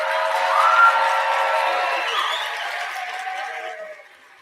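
Applause and cheering from an audience at a graduation ceremony for welding graduates, a steady broadband wash of clapping with some whoops that holds for several seconds before tapering off.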